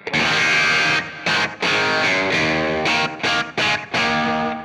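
Electric guitar with a crunchy, lightly overdriven tone from the bridge pickup through a GCM 900 amp with volume and tone all at maximum, played as loud strummed chords and short bursts with brief gaps between them, without talk.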